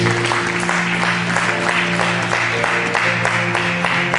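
A church congregation at a large conference claps loudly and steadily, a dense, continuous wash of applause with no pauses.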